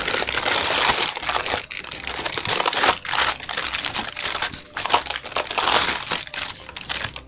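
Homemade sugar glass is broken and crushed, giving dense crackling and crunching in irregular bursts over several seconds, close by with no talking.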